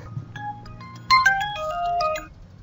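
A phone ringtone plays a bright melodic chime sequence of several rising and falling notes, clear and fairly close, with a faint hum beneath.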